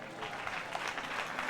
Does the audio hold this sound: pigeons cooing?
no